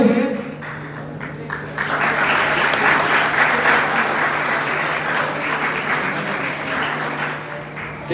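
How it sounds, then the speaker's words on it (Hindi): Loud, sustained applause from a large audience at a college annual function, a dense wash of clapping that swells after the first couple of seconds and holds steady throughout, with a faint steady hum underneath. "जोरदार तालियां एक बार फिर।"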